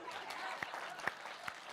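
A studio audience at an Aaj Tak television show applauds faintly, a soft continuous patter of many hands with a few sharper claps standing out, heard at a distance and at low volume.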